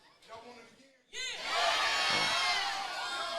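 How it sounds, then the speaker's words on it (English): A live pro wrestling crowd at a pop culture convention in Oklahoma City erupts, shouts and a voice first, then a sudden loud wall of cheering and whooping that holds steady to the end. "A resounding yes from this crowd here in Oklahoma City."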